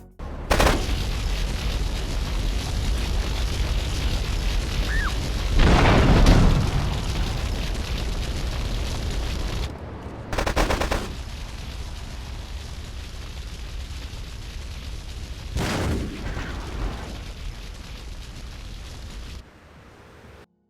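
Explosions and gunfire from GTA III and Vice City Definitive Edition on mobile, a string of loud booming blasts with sharp bursts at intervals over a continuous dense game soundscape, with no talking.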